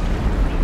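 Tank gunfire in a video game: a single loud, deep blast with a broad rumbling burst that fills the short moment, heard alone without talk.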